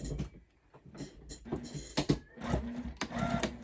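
Sewing machine stitching a quarter-inch seam around a quilted table runner, rapid mechanical chattering in short bursts with pauses between runs, close and fairly quiet.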